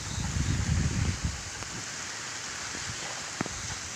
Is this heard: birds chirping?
no